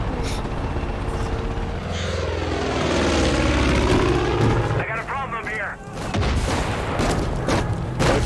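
A helicopter in the video game Far Cry 5 thrums loudly and close, its rotor roar swelling and shifting over several seconds, mixed with sharp gunfire-like bursts and raised voices.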